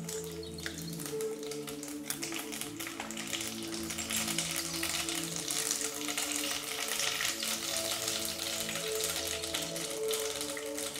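Cumin and mustard seeds sizzle in hot oil for lemon rice, a steady crackling hiss with faint popping that runs unbroken, with a low hum beneath it.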